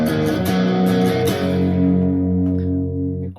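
A distorted electric guitar plays a riff, a few quick strummed chords followed by a ringing sustained chord that slowly decays, loud and alone.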